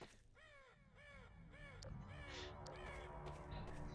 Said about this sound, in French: Il y avait des corbeaux qui passent.